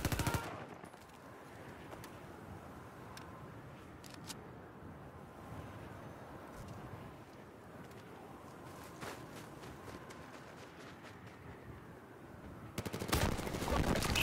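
Bursts of rapid gunfire and single shots in a shooting video game, fairly faint against a low background, with sharp cracks scattered throughout and a louder burst near the end.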